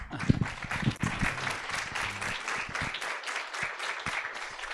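An audience at an academic lecture on heritage building conservation applauds to welcome the speaker, dense clapping for about three seconds that thins into a few scattered claps, with low murmuring beneath.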